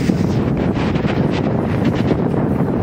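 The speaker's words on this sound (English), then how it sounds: "oh man, it was so windy in Benicia." Strong wind gusting in Benicia, buffeting the microphone with a steady, loud roar for about three seconds, with no one speaking.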